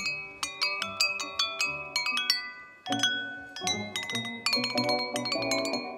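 A Budapest street musician strikes tuned glasses, each ringing clear, bell-like note sustaining over the next in a quick melodic run, loud and close with no talking.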